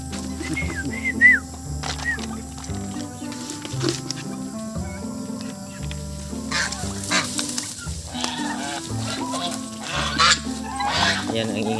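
Several geese honk repeatedly, nearby and noisy, overlapping calls over a steady background hum.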